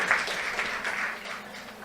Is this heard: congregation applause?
yes